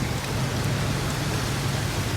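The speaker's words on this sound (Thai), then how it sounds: "โอ้ย ฝนตก" Steady rain pours down over an outdoor fish market in Bergen, a dense, even hiss with no pauses and no voices over it.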